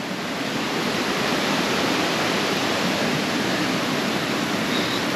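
A small stream runs beside an old, disused watermill in the nature of Janjske Otoke near Šipovo, a steady dense rush of water with no pauses and no voices.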